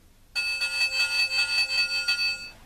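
Bell of an LGB Harlequin model locomotive ringing steadily for a little over two seconds, a close, bright metallic tone struck in quick repeated pulses with no talking.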